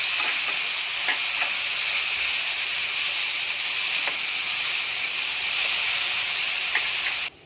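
Steady, loud sizzling of chicken liver masala with mint and coriander frying in a pan, with a few light scrapes of stirring scattered through, ending abruptly.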